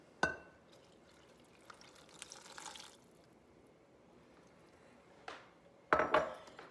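Water and oil are poured into pound cake batter, a soft brief pour among quiet drips, with a few sharp clinks of utensils against the bowl and no talking.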